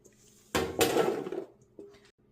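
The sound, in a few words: beets with lemon juice tossed and put on cookie sheets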